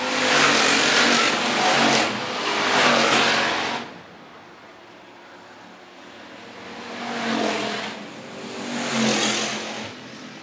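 Hobby stock race cars roar past on the dirt oval at Phillips County Raceway, engines swelling loud and close in two waves separated by a quieter stretch of distant rumble.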